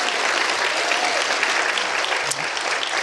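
Audience applause for a state representative candidate at a campaign gathering fills the space, a dense, steady wash of many hands clapping with a brief bump near the end.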